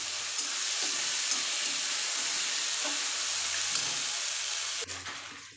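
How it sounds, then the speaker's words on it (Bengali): Chopped onion, ginger and garlic frying in a pan, a continuous near sizzle with occasional soft stirring scrapes, and a brief clatter near the end. "কুচানো পেঁয়াজ, আদা, রসুন একবারে চপারের মধ্যে চপ করে নিয়েছি। একটু নাড়াচাড়া করে নেবো।"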